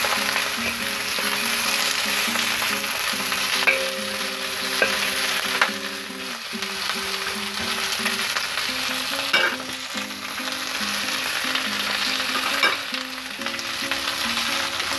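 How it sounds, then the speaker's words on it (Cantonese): Prawns fry in oil in a pan and are flipped for a Cantonese stir-fried prawn dish, a steady sizzle with intermittent scraping and clinking of the utensil against the pan, no speech. "咁你哋話煎到變咗紅色，我哋反轉佢啦"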